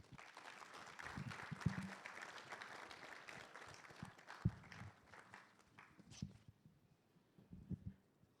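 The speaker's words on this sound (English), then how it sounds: "Let's keep the applause coming, please." An audience applauds at the launch of a governance survey report by the Ghana Statistical Service, with faint, scattered clapping in a hall that thins out toward the end.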